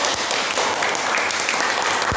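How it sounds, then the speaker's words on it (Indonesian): A classroom of students claps for a group presentation, dense, continuous applause that fills the room evenly from start to finish. "bisa beri tepuk tangan untuk kelompok 1."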